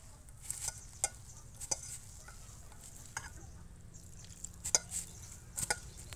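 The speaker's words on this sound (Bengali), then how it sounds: "এরকম চটকায় চটকায় ভালো করে মিশিয়ে নেবেন, যাতে সব উপকরণগুলো একসাথে ভালো করে মিশে যায়।" Wet herbal ingredients mixed and squeezed by hand with water into a dough, heard as soft, faint squelching and patting, a few sharper pats here and there.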